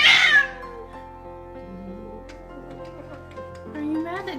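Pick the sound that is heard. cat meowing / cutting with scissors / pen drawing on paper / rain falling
cat meowing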